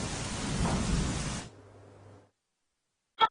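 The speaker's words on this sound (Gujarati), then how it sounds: "મહીસાગર જિલ્લામાં ચાર દિવસના વિરામ બાદ હાલ મેઘરાજા મન મૂકીને વરસી રહ્યા છે" Dense hissing heavy rain pours steadily in Mahisagar district, Gujarat, for a second and a half, then cuts away to a faint low hum, followed by silence and a brief sharp noise.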